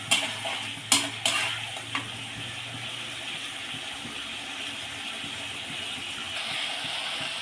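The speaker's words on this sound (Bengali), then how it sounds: "দেখো, আমার মশলাটা কি সুন্দরভাবে ফুটছে" Spice paste bubbling and frying with potatoes in a pan, a few sharp spatula knocks at the start, then a steady, soft sizzle and hiss.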